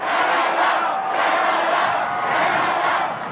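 A large crowd at a political rally in Canada roars and cheers in a continuous, loud wash of voices, swelling slightly in waves throughout.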